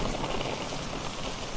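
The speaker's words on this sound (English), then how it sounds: "sheltering them from the rain pelting down on the earth." Rain pelts down outdoors in Korea, a steady dense hiss of falling drops that continues unbroken at moderate level with no voices.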